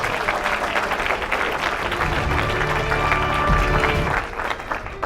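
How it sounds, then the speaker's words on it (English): A crowd applauds continuously, a dense steady clapping that holds for several seconds and then eases slightly toward the end. "Big round of applause"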